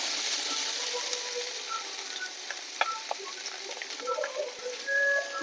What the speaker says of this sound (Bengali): লবণ হলুদ ভালো করে নেড়ে চেড়ে নেব কষানোটা ভালো করতে হবে